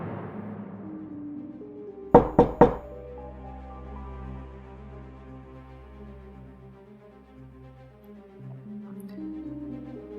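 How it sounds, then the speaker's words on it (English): Three sharp, loud knocks on a door in quick succession, alone over a low sustained musical drone that continues afterward. "begin to hear knocking on their door right at midnight."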